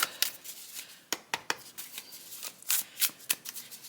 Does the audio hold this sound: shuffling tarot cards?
yes